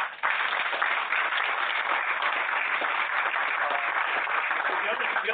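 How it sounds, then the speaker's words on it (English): A seated audience at a student research presentation event gives a steady round of applause for supervisors and students. The dense clapping fills the room evenly for several seconds. "round of applause for the supervisors and the students again"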